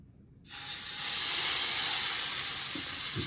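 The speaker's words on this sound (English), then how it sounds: "now we're gonna drop the steaks in there" Steaks hitting a hot cast iron skillet burst into a loud, steady sizzle after a brief quiet start, the searing hiss holding strong and continuous to the end.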